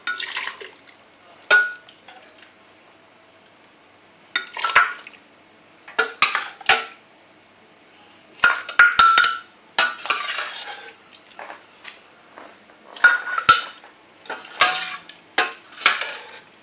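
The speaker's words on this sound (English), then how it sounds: "So slowly, carefully, soup up, and then we just ladle across." Repeated clinks and scrapes of a metal ladle against containers while ladling beetroot soup into a blender, in irregular bursts with quiet gaps, plus occasional liquid splashes nearby.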